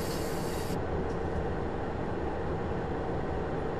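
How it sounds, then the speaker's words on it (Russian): Inside a railroad car riding along in a train simulator game featuring a CFR 060-EA electric locomotive, with a steady, loud rolling rumble that carries through without pause. "Поэтому мы тут с вами немножко в вагоне покатаемся."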